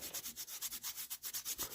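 Rubbing dirt off the mating surface of a part on a 1990 GMC Sierra truck: a soft, steady back-and-forth scrubbing in quick regular strokes, quiet and close, with no voices.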